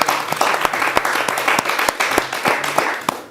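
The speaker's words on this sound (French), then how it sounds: "Applaudissez pour les Diawaras." A television studio audience applauds, with sharp individual hand claps standing out over a steady bed of clapping that tapers off at the end.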